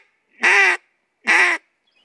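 Two loud, nasal quacks are blown on a duck call, each about a third of a second long and evenly spaced, with silence between and after them.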